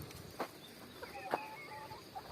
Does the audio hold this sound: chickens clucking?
yes